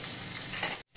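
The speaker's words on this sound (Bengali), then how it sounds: "মাছটাকে ভাজা হচ্ছে দেখতেই পাচ্ছেন" Steady, crackling sizzle of fish frying in hot oil, loud and close, cutting out briefly near the end before resuming.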